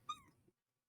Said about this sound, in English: Yeah, that was my cat.